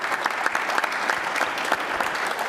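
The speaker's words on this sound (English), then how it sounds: "I think we need to give John a big round of applause" A round of applause rises from an audience at a Medal of Honor anniversary commemoration in a museum, with steady, crisp clapping from many hands that holds at an even level throughout.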